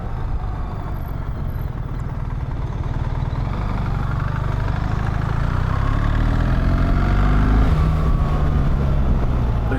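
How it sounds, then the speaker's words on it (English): A BMW R1300GS motorcycle with an automatic gearbox and its 1300 engine drones steadily while riding, a loud continuous engine note with wind noise, the pitch climbing in rising sweeps as it accelerates through the gears. "This 1300 engine is just so punchy, it's lovely."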